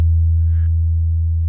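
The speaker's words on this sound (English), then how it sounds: "I looped that single cycle waveform, made sure it was in tune, added a pretty long release on the volume envelope" A looped single-cycle sine wave played in a sampler holds as a steady, loud, pure tone with a sustained, unchanging drone for its whole length.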